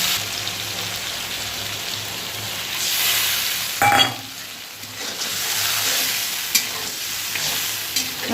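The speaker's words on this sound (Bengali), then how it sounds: "আঁচটা কমিয়ে দিয়ে ভালো করে মশলাটাকে কষে নেব।" Chilli paste and spices sizzle steadily while being stirred in a pan with fish, potato and eggplant, with a few scraping stir strokes and a sharp clink partway through; no one speaks.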